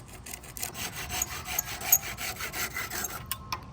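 A saw cuts down the protruding wooden handle of a throwing axe, a close, steady rasping stroke after stroke for several seconds before stopping.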